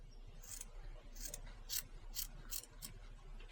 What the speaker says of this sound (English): I'm going to trim this seam allowance, and I'm just going to use my scissors this time